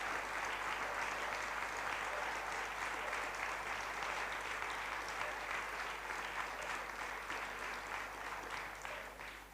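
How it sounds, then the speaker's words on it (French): A crowd at a political rally breaks into sustained applause, a thick, even roar of clapping hands lasting nearly ten seconds at steady volume, tapering slightly at the very end with no speech over it. "on peut vraiment l'applaudir tous"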